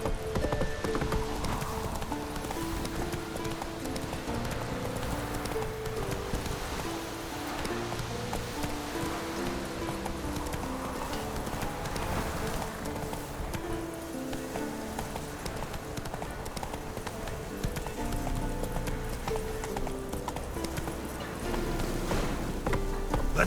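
Horse galloping in The Witcher 3: Wild Hunt, a steady run of hoof clip-clops over a sustained bed of game music and ambience, with faint voices briefly present.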